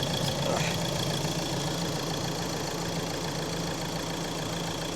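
A Ford Transit Custom van that is badly overdue for an oil service idles while its engine warms up. It gives a steady, even mechanical hum and rumble with no change in pace.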